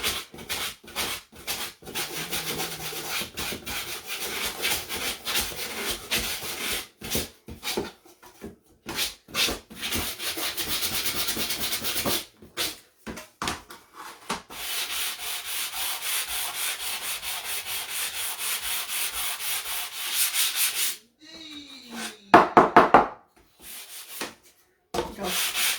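Steady back-and-forth hand sanding scrapes paint off a wooden cutting board, rhythmic gritty rubbing strokes that pause briefly now and then, close and continuous.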